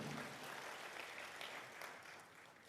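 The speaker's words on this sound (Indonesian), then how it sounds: "Tepuk tangan dulu yang meriah buat Tuhan kita." A church congregation at an online worship service gives lively applause, a short, dense, even burst of clapping with no pause.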